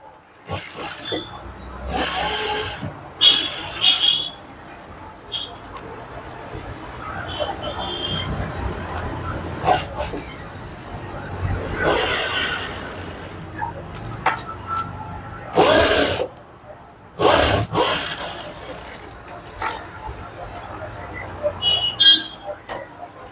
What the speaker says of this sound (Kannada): ಹಾಫ್ ಇಂಚ್ ಮಾರ್ಜಿನ್ ಅಲ್ಲಿ ಸ್ಟಿಚ್ ಹಾಕೊಳ್ಳಿ